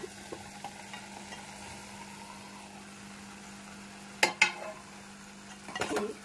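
Okra frying in a pan for a spicy tangy okra, egg and onion dish, a faint steady sizzle with a few sharp clinks and scrapes of a utensil near the end.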